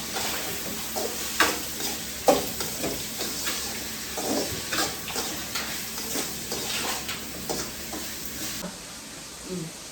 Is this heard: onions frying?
yes